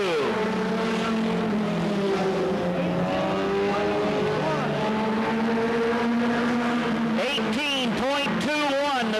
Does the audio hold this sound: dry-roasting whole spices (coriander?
no